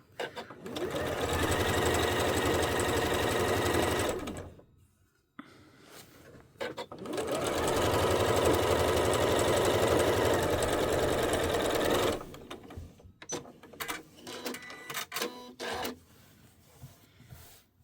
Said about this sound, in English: you're then letting the sewing machine do all the work for you